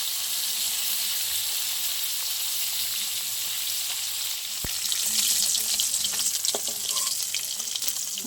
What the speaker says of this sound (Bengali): আর বাকি মাছটা ভাজা হয়ে গেছে